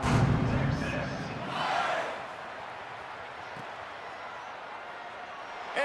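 Home crowd roaring at a Georgia college football game, a loud swell of cheering in the opening seconds that eases into a steady stadium murmur, with a sharp thud near the end.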